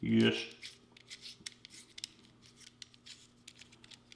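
A small threaded cap on a Wilcox RAID flashlight switch is being unscrewed, giving faint, scattered clicks and light scraping ticks after a brief burst of speech at the start.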